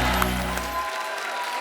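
Audience applause at a live comedy and shayari stage show as a singer is called up, a broad steady wash of clapping with low music or crowd rumble cutting out partway through.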